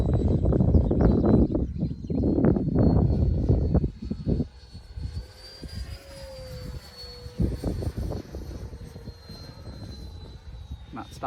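A Freewing T-33 semi-scale RC model jet flies past, its electric ducted-fan whine rising and falling in pitch as it passes overhead, loud at first, then thinner and more distant.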